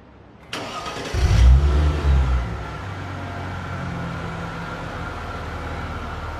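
A luxury car worth millions on a test drive: the engine cranks and fires with a brief surging rev, then settles into a steady, smooth low hum. No one speaks.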